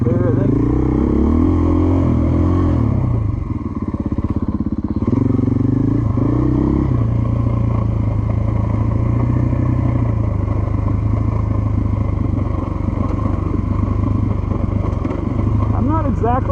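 A 2024 GasGas EC450F dirt bike ridden off-road, its engine loud and close throughout, revving up and down with clattering over rough ground while a rider talks over it.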